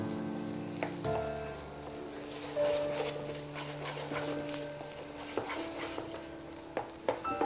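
Boiled potatoes are added to fried onions in a restaurant pan and sizzle in hot oil, a steady crackling fry with occasional clinks and stirring scrapes, with no talk.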